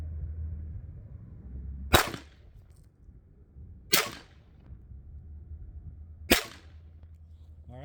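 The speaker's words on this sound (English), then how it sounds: "All right, so there's 3 rounds." Three rifle shots fired while zeroing a scope, each a sharp close crack about two seconds apart over a low background hum.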